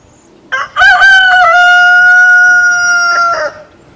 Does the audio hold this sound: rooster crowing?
yes